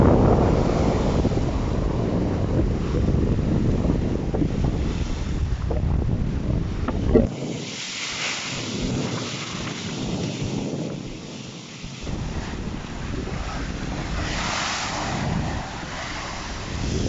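Storm waves surge and crash against the seawall at Whitby during a gale, a continuous heavy roar of surf with gusting wind buffeting the microphone and swelling surges throughout, no voices.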